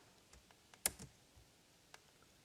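A handful of soft keystrokes on a computer keyboard while Python code is typed, with one louder key clack in the middle and faint scattered taps around it in a quiet room.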